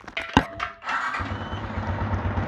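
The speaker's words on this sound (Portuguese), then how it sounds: "Aqui ó, vou ligar a moto." A Honda Titan 125 motorcycle with an abnormal engine noise is started: a sharp click and brief crank, then the engine catches and settles into a steady, close, loud idle with a rhythmic mechanical pulsing.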